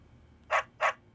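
A dog barks twice in quick succession, two short, sharp woofs standing out clearly over a quiet background in an AT&T commercial.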